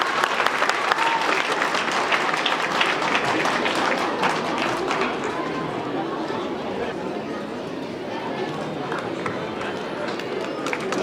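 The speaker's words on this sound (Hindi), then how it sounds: "जोरदार तालियां" Enthusiastic audience applause at a school annual day in Doda, loud and continuous, a dense crowd of hands clapping with chatter and a voice mixed in, easing slightly toward the end.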